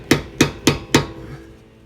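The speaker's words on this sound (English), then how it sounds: "if you use a screwdriver and hammer it in there a little bit" Four sharp metallic hammer strikes on a screwdriver driven into a Honda Civic axle nut land in a steady rhythm, close and loud, followed by a quiet stretch with no further hits.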